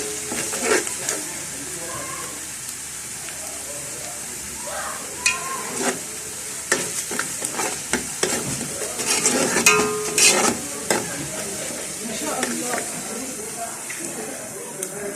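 Oil with chopped onion and minced garlic frying in a home kitchen pan, a continuous soft sizzle broken by intermittent stirring scrapes and utensil clatter that grow busier midway.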